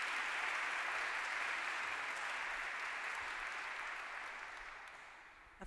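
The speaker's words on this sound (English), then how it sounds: "you can clap for her." Audience applause at a university graduation honors ceremony, a dense continuous clapping from many hands that holds steady and gradually softens over several seconds.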